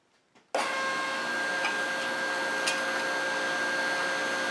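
After a brief quiet moment, a loud press brake starts abruptly while bending 0.100-inch aluminum plate and holds a steady, dense mechanical roar, with faint clicks over it.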